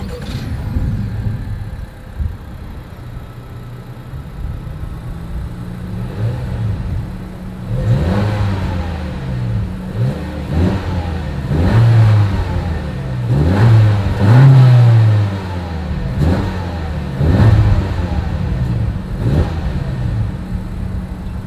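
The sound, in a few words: car exhaust revving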